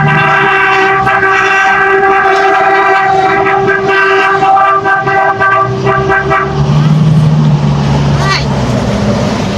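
Horn blasts from traffic on a wet street, loud and sustained with strong harmonic tones over the first seven seconds, then a busy mix of engine noise and a motorbike, with voices talking throughout.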